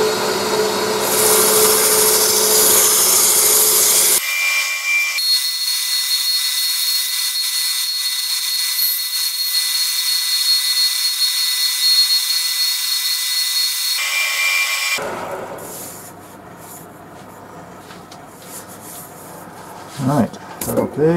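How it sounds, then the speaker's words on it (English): Steady whirring power-sanding on wood, with grits from 80 up to 220-240, runs for about ten seconds, bracketed by louder rough buzzing and followed by quieter scraping handling noises. "just doing the sanding process now"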